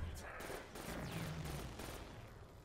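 Rapid bursts of gunfire from a weapon in the Der Eisendrache zombies round of a video game, loud and dense over about three seconds, with game effects layered in.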